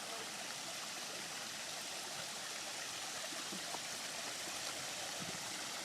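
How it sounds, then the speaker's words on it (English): Large waterfall in a lush, jungle-like outdoor spot, a steady broadband rush of falling water that fills the whole stretch without pause, fairly distant and even in level. "There's the waterfall, the big waterfall."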